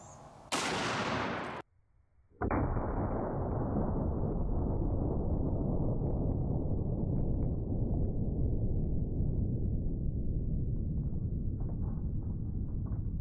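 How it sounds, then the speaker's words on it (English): A .50 caliber rifle blows apart when fired, giving a sharp, very loud blast, then a brief pause and a long, heavy roaring rumble that slowly fades over several seconds. "So when I pulled the trigger, the gun exploded almost immediately."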